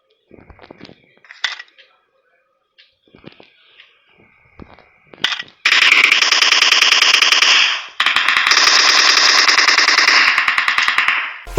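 M416 assault rifle fire in a video game: a few faint scattered shots and clicks at first, then two long, loud sustained automatic bursts with rapid rhythmic reports, the second following a brief pause.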